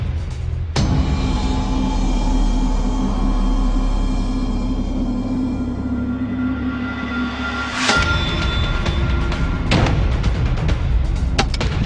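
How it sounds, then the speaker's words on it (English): Hellhound grenades are fired at steel plate bunkers out on a range. A handful of sharp, loud blasts land several seconds apart over a rumbling outdoor background. "Six beautiful hellhound grenades, each traveling at nearly 180 miles an hour, all on target in less than 3 seconds."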